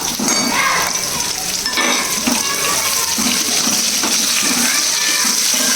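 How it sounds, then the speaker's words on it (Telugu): Medium-sized onion pieces and green chillies fry in hot oil for chicken manchurian, giving a loud, dense, continuous sizzle with faint stirring, heard up close. "ఉల్లిపాయ ముక్కలు కూడా చిన్నవి కాకుండా మీడియం సైజ్ ఇలాగా పెద్దగా కట్ చేసుకొని వేయించుకోండి"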